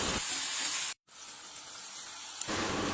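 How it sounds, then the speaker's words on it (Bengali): Onion and garlic frying in a wok, a soft steady sizzle and hiss that briefly drops out for a moment before resuming. "অন্য একটা কড়াইয়ে পেঁয়াজ দিয়ে এবং রসুন দিয়া ভাজা নিমু।"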